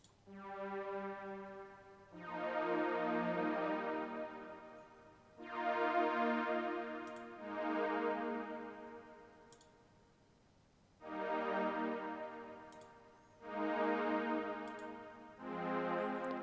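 A Diva synth pad preset from the Linndrum library swells in soft, sustained chords, several overlapping tones rising and fading in slow waves, quiet and alone, with faint ticking clicks on top.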